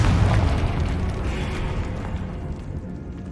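A Confringo explosive spell detonates in Hogwarts Legacy, a deep booming blast that rolls out and slowly fades over a few seconds inside a decayed catacomb, with no talk over it.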